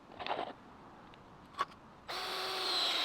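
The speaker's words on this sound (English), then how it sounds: "With the post leveled, I used structural connector screws instead of nails." A power drill drives structural connector screws into a wooden deck post, with a brief whir at the start, a faint tap, then a steady, fairly close whine holding to the end.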